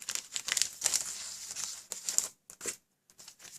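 Clear plastic cello bags holding 6x6 card envelopes crinkle close up in bursts of crisp rustling, then short pauses and a few last crackles.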